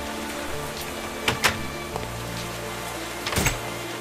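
Rain falls in the video game Minecraft, a steady soft patter with a few louder, sharper drops standing out, quiet overall.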